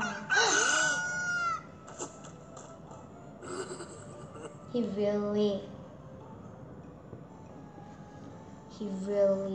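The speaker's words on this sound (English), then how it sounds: "When he heard the rooster crow" A rooster crows loudly, its call rising and falling, with someone talking before and after the crowing during a children's Bible story.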